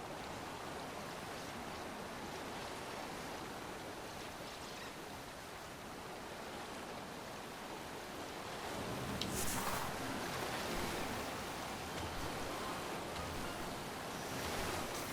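Water rising in a flooded room in Metroid Prime Remastered, heard as a continuous rushing, surf-like wash that swells louder partway through, steady and enveloping with no talking.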